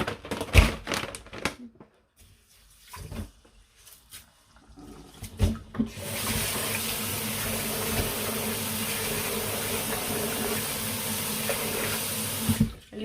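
Rice being washed in a kitchen: a few seconds of clattering and handling sounds, then a tap turns on and water runs steadily into the rice and sink, close and fairly loud, with no talk.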